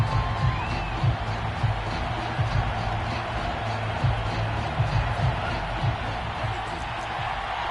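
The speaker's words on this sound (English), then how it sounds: "Plenty of shouts from this crowd as they watch the replay" A football crowd in a stadium shouts and roars while watching a replay, a steady, dense wash of many voices with occasional louder whoops rising above the din.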